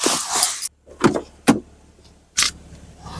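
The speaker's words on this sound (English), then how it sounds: "So we'll go for a little test drive now" A Mercedes SL in snowy weather is readied for a drive, with a run of close mechanical clunks, clicks and a brief whirring motor, each separated by short silences, and no voices.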